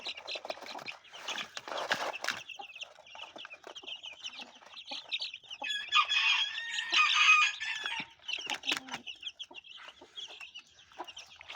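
Several chickens, including an Arab breed hen, cluck and squawk close by, with a busy burst of louder calls in the middle and ongoing chatter throughout.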